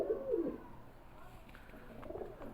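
Pigeons at a fancier's pigeon show coo in short, low, close bursts: one near the start and a softer one about two seconds later, with a quiet background between.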